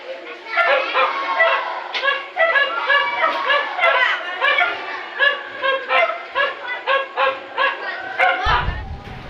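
A sick dog yelps and whimpers close by in a rapid, continuous run of high, strained cries with short pauses, ending in a brief low thump.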